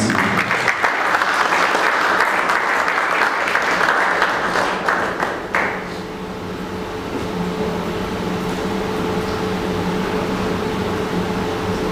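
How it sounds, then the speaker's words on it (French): An audience at a speaking event breaks into loud, dense applause that lasts about five seconds, then drops abruptly to a low, steady room hum. "Sous nos applaudissements."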